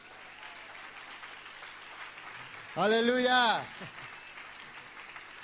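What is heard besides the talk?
congregation applause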